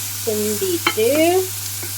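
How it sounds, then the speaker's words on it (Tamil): Spice powder is stirred into prawns frying in a pan over a steady sizzling hiss, with a spatula clack near the middle and a drawn-out tonal squeal or hum rising and falling across the stir. "தூள் போட்டு கிண்டணும்"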